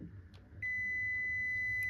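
A multimeter in continuity mode sounds a steady high-pitched tone across a car battery charger fuse. It starts partway through and holds unbroken to the end, loud and clear over a faint background hum.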